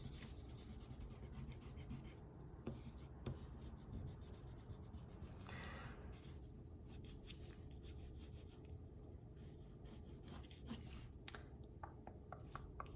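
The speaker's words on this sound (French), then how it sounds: "Donc on gomme ici l'intérieur du corps." Pencil construction lines are erased from a drawing with repeated soft rubbing and scratchy strokes in uneven bursts, very close and quiet, with no one talking.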